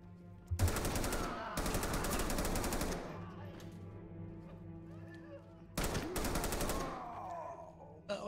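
A SAW machine gun fires in Ready or Not, three long rapid bursts of close, loud automatic fire with steady gaps between them and a low background hum.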